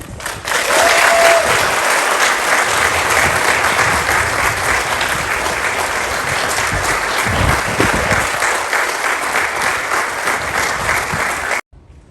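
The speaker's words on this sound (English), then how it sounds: "we give a hand for Lady Death" Sustained applause from an audience at a military retirement ceremony, loud and steady for about eleven seconds before stopping abruptly.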